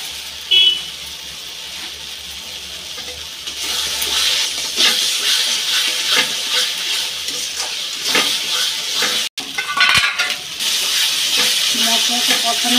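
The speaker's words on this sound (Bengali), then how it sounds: "মশলাটা ভালো করে কষিয়ে নিতে হবে" Spice masala fries in a pan with a little sugar added, a loud continuous sizzle with intermittent stirring scrapes, a sharp clack near the end and a brief dropout.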